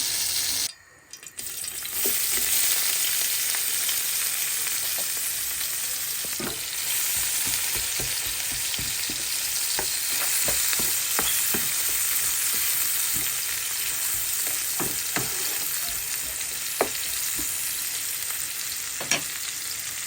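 Onions frying in a pan until browned, a continuous close sizzle with occasional sharp pops and stirring clicks over a steady hiss.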